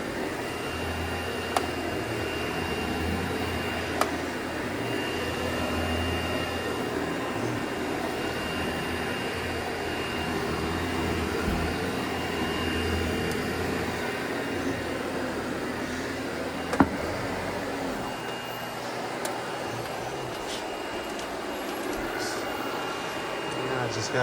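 A Sebo Felix upright vacuum cleaner drones steadily and loudly throughout, a constant broadband roar with a faint whine, while a person talks over it.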